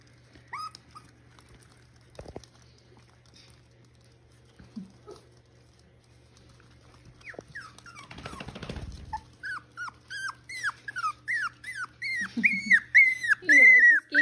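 A six-week-old puppy whimpers and yelps in a rising series of short, high cries during a keep-away game, close and growing more insistent, with brief background sounds earlier.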